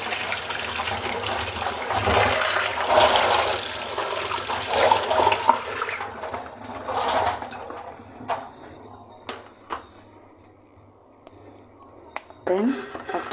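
Tap water gushes and splashes while peeled carrots are washed, a loud rushing flow for several seconds that gives way to scattered drips, clinks and handling sounds.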